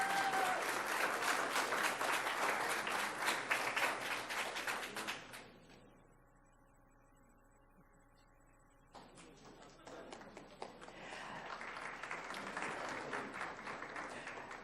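An audience at a school district recognition event applauds for about five seconds, falls quiet, then breaks into a second round of clapping, moderately distant and even in texture.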